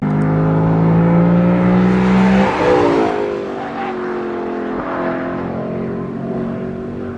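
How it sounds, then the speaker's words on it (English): A Lexus LC500's naturally aspirated V8 revs up with a loud, rising growl, then settles into a steady, throaty drone while the car is driven. No one speaks. "it's so sad that these NA V8s are going away, guys, because this is beautiful. Such good growl."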